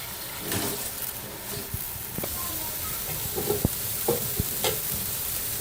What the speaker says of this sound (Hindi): अब इसके अंदर हम ये प्याज शामिल कर देंगे इस तरीके और इसको गोल्डन ब्राउन होने तक इसको भुनेंगे।